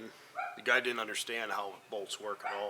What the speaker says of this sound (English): You can hear my dogs barking about something back there.